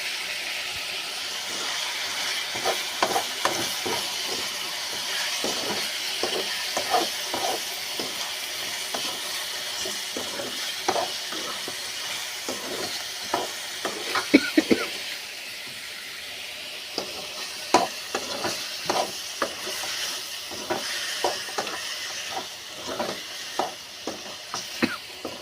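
Chicken fry being stirred in a pan, a steady sizzle running throughout with repeated scraping strokes of a spoon against the pan at an irregular rhythm, close and moderately loud, with no talking.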